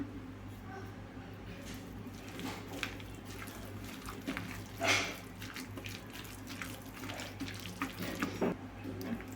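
Idli batter mixed with chopped chillies is beaten by hand for bondas, giving soft, wet squelching slaps in an uneven rhythm. The sound is fairly quiet and close, with one louder splash midway.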